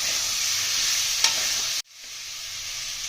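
Spice paste and tomato sizzle steadily in a pan as they are stir-fried for a Bengali katla fish kaliya, with a brief stir partway through, then a sudden cut and the frying hiss returns.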